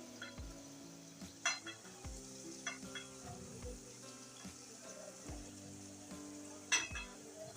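Stuffed gunda (Kathiawadi bharela gunda) being slid into onions already frying in a pan, giving a low steady sizzle with a few soft clacks as pieces land, close and alone with no talking.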